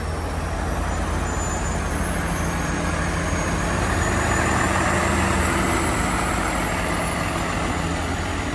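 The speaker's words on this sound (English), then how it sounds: "the pump, one cement truck, another cement truck up there" Cement trucks and a concrete pump arrive at a building site on a newly made road, with a continuous loud diesel engine rumble and broadband road noise that holds steady throughout.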